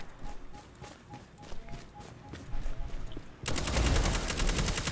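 Hand cannon gunfire in the Destiny video game, a run of repeated sharp shots over background game sound, ending in a louder dense burst of firing.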